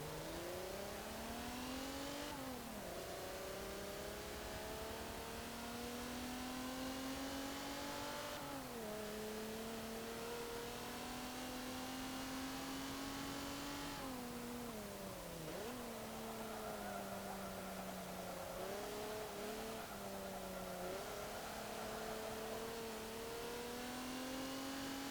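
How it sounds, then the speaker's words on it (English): A 1990 Alfa Romeo SZ V6 engine in Forza Motorsport 7 revs and shifts through gears, the pitch climbing and dropping repeatedly, steady and continuous with no talking. "Alfa Romeo have routinely made fantastic sounding engines, and this V6 is no different"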